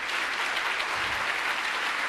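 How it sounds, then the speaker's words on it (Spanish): Audience applause at a school talk in Spanish, a steady dense patter of many hands clapping, moderately loud and continuous throughout the short stretch. "Así que un aplauso realmente para Gabriel y Agustina."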